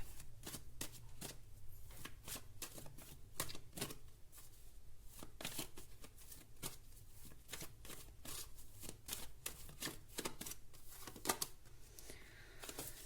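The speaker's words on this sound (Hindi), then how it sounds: "एक और कार्ड निकालते हैं।" Tarot cards being shuffled and drawn during a pick-a-card reading, a steady run of crisp riffling flutters and snaps repeating close up throughout, with no talk.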